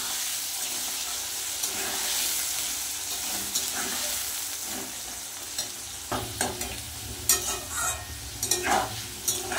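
Cut potatoes frying with whole cumin seeds, cardamom and cinnamon in a pan, a steady close sizzle that grows busier with scraping stirs and clatter toward the end.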